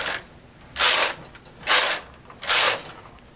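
A knitting machine carriage sliding across the needle bed for rows of knitting, three distinct whooshing mechanical passes about a second apart, close and clear over a quiet background.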